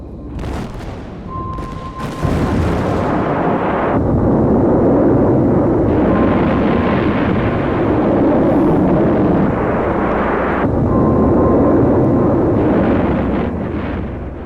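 Archival V2 rocket test with deep rumbling explosions and roaring blasts, a sustained loud boom swelling after an opening burst and rolling on continuously for over ten seconds, with no talk over it.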